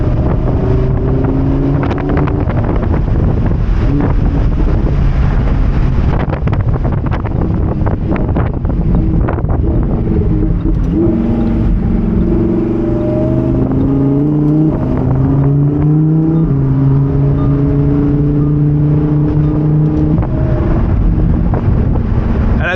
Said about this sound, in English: the car gets much louder once you drop it from Strada into Sport or Corsa and those valves open up